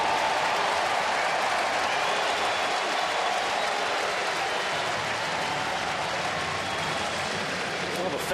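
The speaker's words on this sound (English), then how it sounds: "the fans are cheering" A baseball crowd at a Houston versus Cincinnati game cheers and applauds in a loud, continuous roar that fills the stadium throughout.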